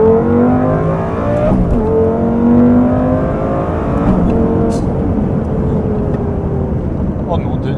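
A supercar's loud exhaust roars from inside the cabin as the car accelerates hard through rising and shifting gears, with the engine note climbing and dropping while people talk over it.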